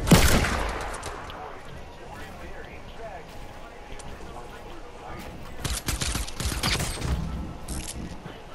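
Gunfire in Fortnite: one loud sharp shot at the start, then a quieter stretch, followed by a cluster of rapid shots and bursts toward the end.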